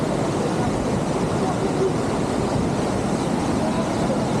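A waterfall at the end of a trek, heard as a steady, loud, broadband roar of rushing water that stays constant throughout with no breaks.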